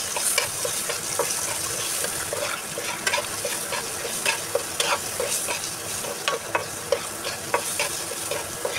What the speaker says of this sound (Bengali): তো এখন এটাকে ভালো করে ভেজে